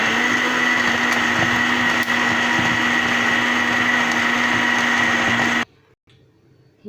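A kitchen blender whirs loudly and steadily while blending a banana and dates milkshake with sugar, then cuts off abruptly near the end, leaving quiet with faint handling sounds.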